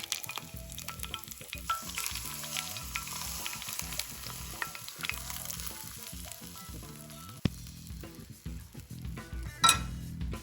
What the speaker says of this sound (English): here comes the sizzling part